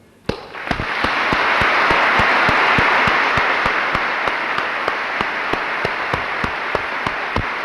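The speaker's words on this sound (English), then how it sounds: "if you have energy for just one more bout of applause" Graduation ceremony audience in a large hall bursts into applause after a brief quiet start, swelling within a second into sustained, even clapping from many people that holds steady to the end.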